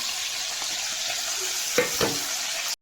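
Panch phoron spices, bay leaves and chili sizzling in hot oil in a pan, a steady bright crackle throughout with a couple of louder stirring knocks near the end, close and without talk.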